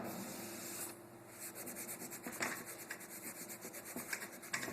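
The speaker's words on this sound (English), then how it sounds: "now you must clean it with the cleaner." A drive wheel bearing part is wiped and cleaned with Loctite cleaner, a quiet, close rubbing and scrubbing with uneven strokes and a few sharper scratches, no voices.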